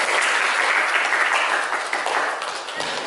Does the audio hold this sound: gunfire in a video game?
no